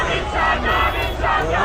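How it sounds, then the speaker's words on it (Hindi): Street protest crowd in Iran chanting slogans in loud rhythmic unison bursts, dense and close, with the massed voices rising and falling in regular waves. "नारेबाजी के साथ ये भीड़ लगातार आगे बढ़ रही है"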